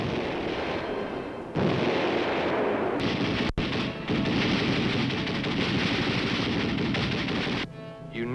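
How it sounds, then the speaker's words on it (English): Infantry weapons, M1 rifles and machine guns, fired on a military training range, with dense continuous bursts of gunfire and sharp reports, one loud crack standing out, sustained and loud throughout. "In addition to the M1 rifle, we learned to fire other infantry weapons."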